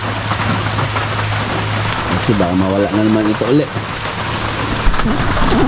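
Steady rain pours down in an even, hissing wash from start to finish. A person talks close by over the downpour.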